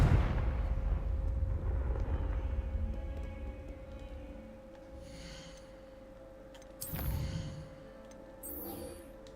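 A Confringo fire-blast spell in Hogwarts Legacy bursts with a heavy booming blast that rumbles and fades, followed by a second sharp crackling burst near the end, loud and close with no talking.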